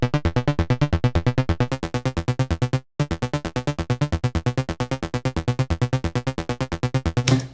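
Free synth plugin patch with a square-wave sub-oscillator tuned an octave below two other oscillators, played as fast, even repeated bass notes. The tone is loud, buzzy and rich in harmonics, with one brief dropout midway.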